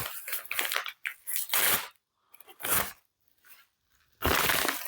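Sharp lockback pocket knife slicing through its own cardboard packaging, several loud crunching, tearing cuts in irregular bursts with short silent gaps between them, close up and with no talking.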